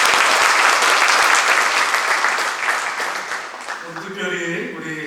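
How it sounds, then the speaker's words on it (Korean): A church congregation at a joint deacons' dedication worship service gives sustained, loud applause that fills the room and slowly fades, and voices can be heard as the clapping dies away. "감사의 영광의 박수 올려드리겠습니다"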